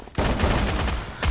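Gunfire in a battle royale video game during a tournament match: a rapid burst of loud, close shots firing in quick succession for about a second, with no talking.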